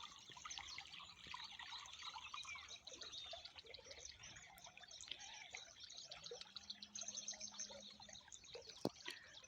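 Water runs in a faint, steady trickle outdoors where Rajasthani dal baati is being cooked, with a soft splashing texture, occasional distant bird calls and a brief low hum midway.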